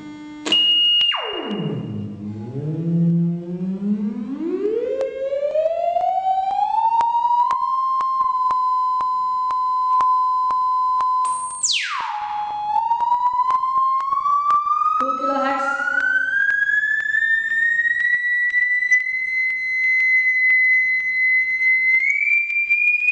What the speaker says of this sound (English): Now let us go back to 1 kilohertz.